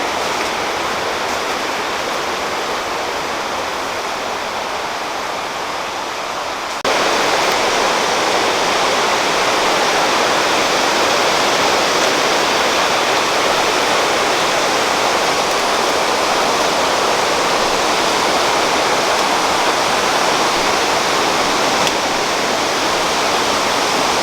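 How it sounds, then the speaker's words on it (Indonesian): Rushing water at the top of the Saluopa waterfall, a dense, loud, steady roar of falling water with no voices, swelling slightly louder partway through and holding unbroken to the end. "Saya sekarang sudah berada di hulu air terjun Salopa."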